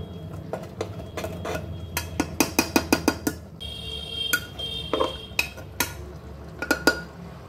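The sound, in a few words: scraping oil and spices off the inside of a wok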